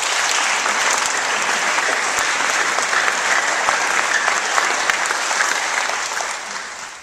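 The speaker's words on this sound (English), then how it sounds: "Give yourselves a round of applause." Sustained applause from a crowd at a girls' football club meeting, many hands clapping densely and evenly for several seconds before tapering off toward the end, with no voices heard.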